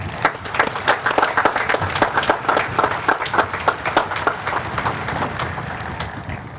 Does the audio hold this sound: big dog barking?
no